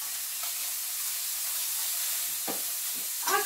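Chopped onion fries in a pan for a breakfast bacon and mushroom omelet, giving a constant close sizzle with a few stirring scrapes near the end and no speech.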